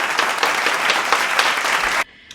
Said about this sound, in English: Clap for Brittany.